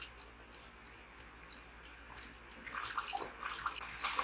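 Water being collected in the survival game Stranded Deep, faint at first with light ticking clicks, then a louder splashing, sloshing burst in the last second and a half.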